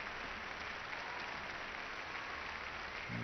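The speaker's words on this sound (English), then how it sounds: "And the crowd appreciative of the efforts of both players." Crowd applause in an arena after a men's badminton group match at the London 2012 Olympics, a steady broadband wash of clapping, fairly distant and even throughout, with no talk over it.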